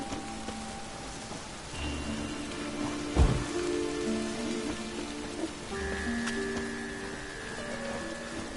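Steady rain falls in The Witcher 3, a constant soft hiss of drops on surfaces that lasts throughout with a single brief thump midway and no talking.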